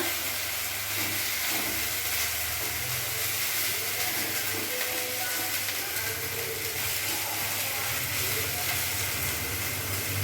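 Hot oil sizzles in a pan as katla fish rezala is being cooked, a steady, close, unbroken hiss with faint crackles running throughout and no talk.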